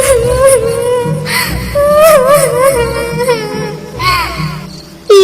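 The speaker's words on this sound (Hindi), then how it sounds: "उनके कानों में फिर किसी चिड़िया के रोने की आवाज" A high, wavering wail like a crying bird, rising and falling in mournful sweeps over a background of soft music.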